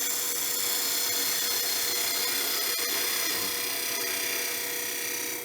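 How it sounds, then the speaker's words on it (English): A skew chisel cuts a tenon on the end of a wooden box blank spinning on a lathe, giving a continuous high, hissing scrape that holds steady and alone, fading slightly at the end. "take our skew and put a tenon on each end"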